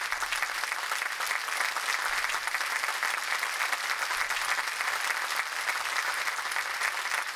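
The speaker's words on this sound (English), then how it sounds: "Oh, that's a lot of applause." Dense, steady applause from a crowd fills the whole stretch, an even wash of many clapping hands at moderate distance with no voices over it.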